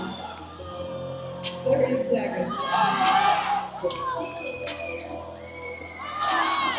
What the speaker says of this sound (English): The crowd appreciated.